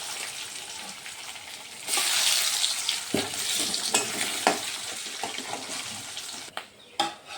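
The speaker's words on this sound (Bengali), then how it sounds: "নারকেলগুলোকে একটু ভেজে নেব" Coconut pieces fry in hot oil in a pan, a steady close sizzle that swells louder partway through, broken by scattered clicks and scrapes of stirring.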